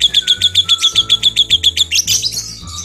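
A lovebird chirps loudly and close in a rapid, even series of bright repeated notes that break into a busier, scratchier chatter at the end.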